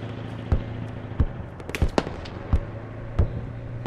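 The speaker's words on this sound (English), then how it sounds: "he just took a shot at me" Sharp, separate gunshots crack about every half second to second, loud and close over steady game background, from someone shooting at the player during a shooter mission called Dragons Breath.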